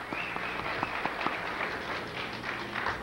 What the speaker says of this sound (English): I noticed all you guys were applauding there.